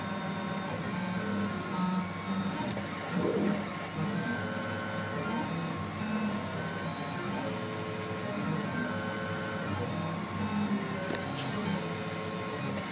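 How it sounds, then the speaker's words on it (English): An AccuCraft i250d 3D printer printing ABS from its first extruder, giving a steady mechanical hum with faint stepper whine that runs evenly throughout, moderately close, with no talking. "The first extruder, that is ABS, that has started printing."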